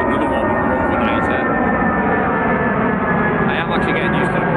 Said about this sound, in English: I am actually getting used to the planes now.